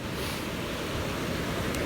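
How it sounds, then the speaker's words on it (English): Ocean waves rolling onto a beach, a steady, loud wash of surf noise with some wind buffeting the microphone throughout and no voices. "Ocean's rolling in."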